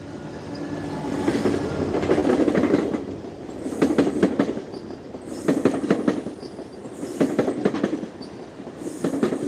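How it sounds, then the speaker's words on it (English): A train rumbles past nearby on a city street in Toronto's King Street West, wheels clattering in repeated bursts of clickety-clack over the rails, with faint squeals, steady and fairly loud throughout. "Actually got another train."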